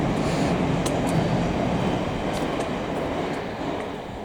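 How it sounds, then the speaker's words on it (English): Trains rumble past outdoors at a moderate distance, a steady broad roar with faint rail clatter and brief squeals, easing slightly toward the end. "Oh, you can hear the trains."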